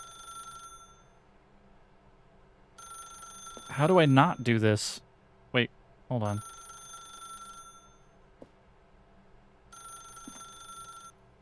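Telephone bell ringing inside The Stanley Parable, a steady repeating ring in bursts with gaps, partly overlapped by someone talking loudly in the middle.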